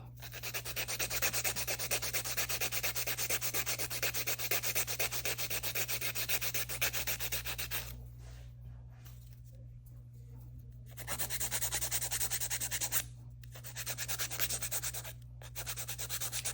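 Steady rhythmic rasping of a hand file against an acrylic nail, close and continuous, with a couple of short pauses before the scraping resumes.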